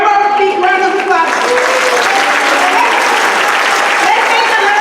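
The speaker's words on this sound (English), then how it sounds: "One more big round of applause." Audience at a community organizing group's 20th anniversary convention breaking into loud, dense applause that swells and holds steady, with a voice over a loudspeaker at the start and scattered cheers in the crowd.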